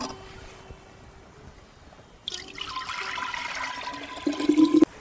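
Clear liquid is poured from a cow-dung solution into a separate container, a steady splashing stream that runs for a few seconds after a quieter start and stops abruptly.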